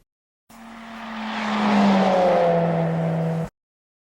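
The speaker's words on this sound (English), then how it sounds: "after the car passes us, the car sounds lower in pitch as it moves away" A single car approaches and whooshes past, its engine tone dropping noticeably in pitch as it recedes, then cutting off.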